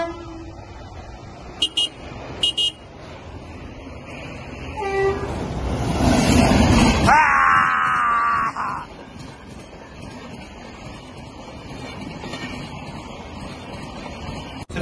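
A train arriving at a station, its rumble swelling to a loud close pass with a drawn-out horn blast, then easing off. Earlier there are brief tones and background voices.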